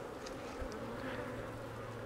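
Honey bees hum in a steady, dense buzz with no voices, a continuous droning swarm heard up close.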